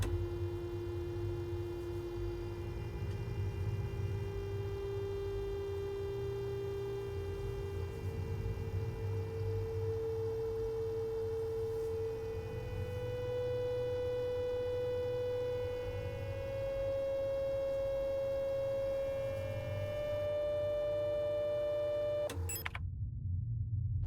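A radio frequency scan in the video game SIGNALIS produces a steady electronic tone that glides slowly upward in pitch over a low mains-like hum, continuing unbroken for about twenty seconds before cutting off abruptly.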